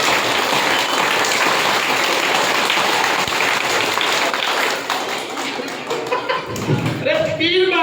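A crowd at a school event in India claps together for a few seconds, in a loud, continuous, ragged burst rather than distinct separate claps, then thins out as voices come in at the end.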